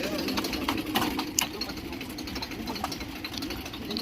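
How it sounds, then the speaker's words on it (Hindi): A 55 HP Deutz-Fahr tractor engine runs steadily with a rapid, rhythmic knocking chug at moderate distance, with someone talking over it. "ये ड्यूट्स फार का ट्रैक्टर है 55 HP"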